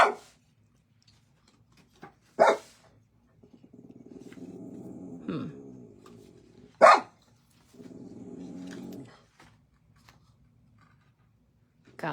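A dog gives two sharp, loud barks several seconds apart indoors, with a steady rasping mechanical noise running in stretches between them.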